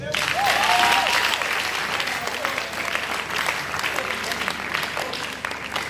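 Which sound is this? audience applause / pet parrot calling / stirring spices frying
audience applause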